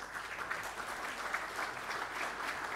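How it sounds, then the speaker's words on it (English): Steady, dense applause from a conference audience at the SportAccord 2018 event, a continuous wash of clapping with no voices over it. "Can we have a big round of applause"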